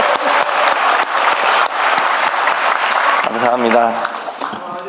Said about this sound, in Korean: 박수 좀 많이 좀 쳐주십시오